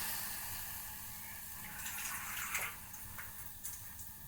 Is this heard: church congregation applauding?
no